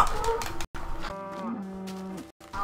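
A cow in Minecraft moos with a loud, drawn-out, close-up low call that is cut by brief silences and followed by a second, wavering moo.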